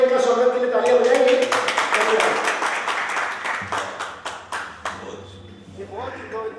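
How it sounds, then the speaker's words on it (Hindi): An audience at an Arya Samaj gathering in Ahmedabad claps to welcome a guest, a dense round of applause that thins into scattered individual claps, with voices talking over it. "इनके लिए भाई साहब को धन्यवाद के लिए, इनका स्वागत के लिए तालियां बजाएंगे।"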